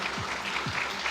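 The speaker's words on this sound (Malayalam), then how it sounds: "നല്ലൊരു കൈയടി നൽകിക്കൊണ്ട്" Audience clapping at a Malayalam movie launch, a short burst of continuous applause from a crowd.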